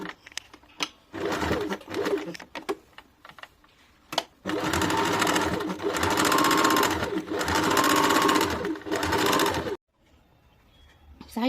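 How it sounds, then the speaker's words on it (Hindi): A sewing machine runs along the seam of a kurti in several close, loud bursts of steady stitching, with short pauses between runs and a quiet stop near the end. "एक और सिलाई डाल देंगे।"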